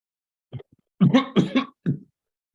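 A person coughs several times in quick, harsh bursts close to a microphone, one short cough followed by a rapid cluster and a final cough, with no talking.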